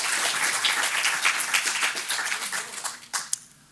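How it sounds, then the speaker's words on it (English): An audience applauds at a tech security conference, with dense, steady clapping from a crowd that thins out and stops near the end, leaving a few last claps. "I just want to give a round of applause for all those work that's going on so far"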